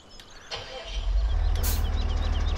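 A tractor engine in Farming Simulator 17 on PS4 cranks and starts, then settles into a steady, loud, low rumble, with a few faint clicks and game sounds before it.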